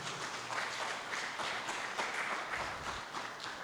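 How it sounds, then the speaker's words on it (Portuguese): A church congregation gives a round of applause during a sermon, a steady wash of many hands clapping at moderate, somewhat distant level, holding evenly for a few seconds. "A salva de palmas ao Senhor pela vida dele."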